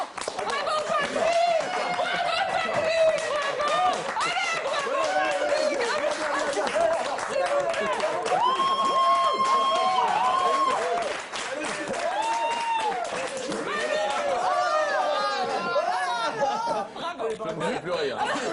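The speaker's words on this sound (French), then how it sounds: "Tout le monde applaudit sur le plateau" A TV studio audience claps steadily on set while voices keep talking and laughing over the applause, the clapping thinning briefly before picking up again.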